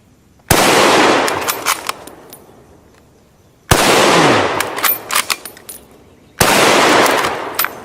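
Three sharp K98 rifle shots fired at a target, each a loud crack followed by a long outdoor echo and ringing decay, spaced a few seconds apart.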